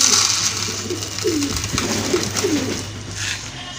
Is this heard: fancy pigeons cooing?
yes